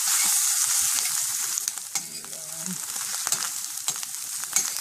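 Food frying in butter in a very hot pan, a loud, bright sizzle that eases slightly midway, with scattered clicks and scrapes of stirring close by.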